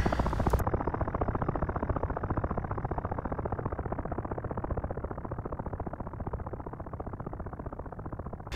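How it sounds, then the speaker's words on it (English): A Black Hawk helicopter in the flight simulator game LockOn: Flaming Cliffs 2 produces a rapid, steady rotor thump with a continuous engine whine, holding a constant rhythm throughout and heard alone. "And a Black Hawk helicopter."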